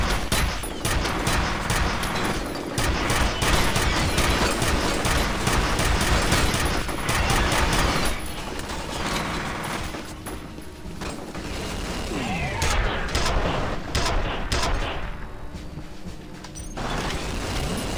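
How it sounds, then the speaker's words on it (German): Dense, sustained gunfire from the shooter game F.E.A.R. Perseus Mandate, with rapid automatic bursts and crackling impacts filling the whole stretch at a steady loud level, and game noise running beneath. "Hast du gerade geschossen?"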